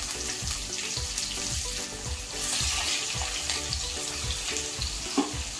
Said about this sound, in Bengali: তাতে দুটো তেজপাতা, গোটা জিরে, 4টে শুকনো লঙ্কা ফোড়ন দিয়ে ভালো করে নাড়াচাড়া করলাম।